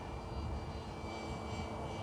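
A model chase plane carrying a tow camera flies steadily, its engine giving a continuous even drone with a few soft swells, no voices over it.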